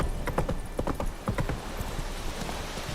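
Hoofbeats of Roach, a horse galloping in The Witcher 3: Wild Hunt, as a steady, rapid clip-clop rhythm played close and clear over a low background rumble, with no talking.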